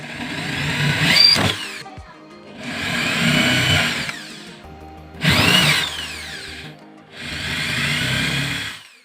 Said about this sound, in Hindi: तो मैं फटाफट इसे ड्रिल कर लेता हूँ।